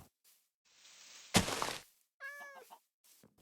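A Minecraft cat gives a single clear meow after a sharp crack and a hissing burst of game sound, close and alone.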